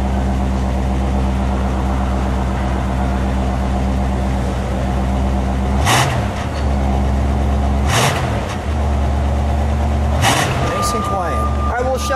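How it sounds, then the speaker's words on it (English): A 1975 Buick LeSabre Custom Convertible engine idles with a deep, steady rumble, then revs up three times in short, loud bursts that each fall back to idle, close by and with no talk over it. "Let's give it a little rev, if you would, please."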